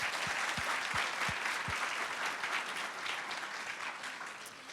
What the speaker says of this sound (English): I think we should give you one last warm round of applause.